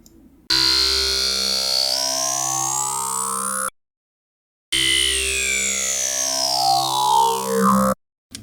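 Sustained wavetable synth tones shaped by a formant filter, two long notes with a vowel-like sweeping, siren-like pitch glide, separated by a short silence, loud and alone.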